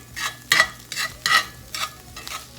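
Beef stroganoff seasoned with crushed rosemary is stirred in a pan, producing five rhythmic, swelling scraping swishes about half a second apart over faint sizzling, close up with no talk.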